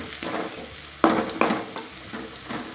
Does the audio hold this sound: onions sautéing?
yes